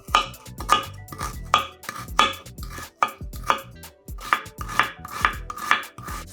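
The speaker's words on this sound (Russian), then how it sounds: "Одну луковицу нарезаем кубиками" A knife chops an onion into cubes on a board, a close series of crisp, sharp knocks coming in an uneven quick rhythm, with no talk.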